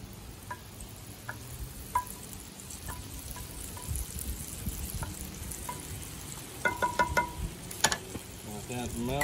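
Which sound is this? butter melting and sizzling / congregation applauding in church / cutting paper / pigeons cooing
butter melting and sizzling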